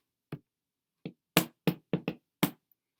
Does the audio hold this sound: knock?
yes